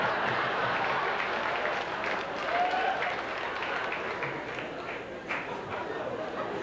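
A comedy club audience claps in a sustained, soft crowd wash from a stand-up show, distant and even throughout, with faint chatter blended in and no clear individual claps standing out.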